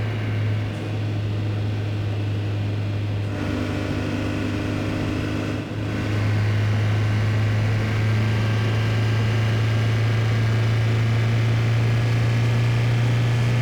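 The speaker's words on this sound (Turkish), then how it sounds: "bir klasik araba alıp da lastik yakmamak olmaz. Bir burnout deneyelim." Engine of a classic Hudson Hornet coupe in a driving simulator holds a steady, loud drone at high revs during a burnout attempt, with a constant low hum and a brief dip midway.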